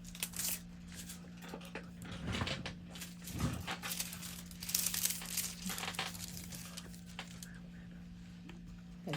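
Thin transfer foil for winter nail art is handled close up, with soft crinkling and crumpling rustles coming in bursts over a steady low hum, no voices.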